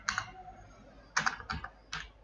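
Typing on a computer keyboard, with short bursts of key clicks: a quick cluster, a pause, then three brief taps close by.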